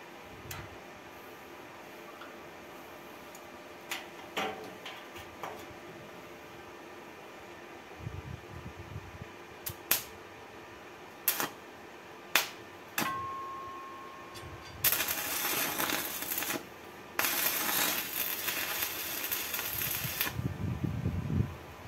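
Stick welding with a 3.25 mm electrode at 112 amps on a Monza gearbox mount bracket in a workshop: a few short crackling weld tacks after scattered taps and clicks, with two longer sizzling bursts near the end.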